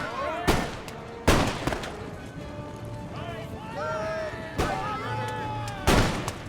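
Musket volley fire in the PC strategy game Empire Total War, British campaign: four sharp, loud broadband cracks spaced a second or more apart, with a busy battlefield bed of hoofbeats, tones and other game sounds between them.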